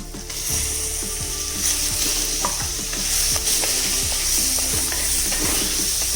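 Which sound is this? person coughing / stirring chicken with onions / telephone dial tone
stirring chicken with onions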